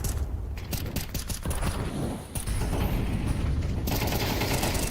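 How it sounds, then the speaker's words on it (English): Gunfire in a Counter-Strike pro match, with bursts of rapid rifle shots and sharp cracks over a dense, busy game soundscape. "Shooting through the smokes, hoping to get a frag"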